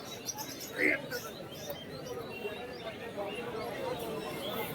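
Pigeons at a pigeon market in Bangaon make faint, brief chirps and coos against a quiet outdoor murmur of background activity.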